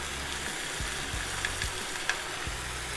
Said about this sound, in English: So I'm going to fry it for a while so that the chili smell will come out and it won't smell so raw.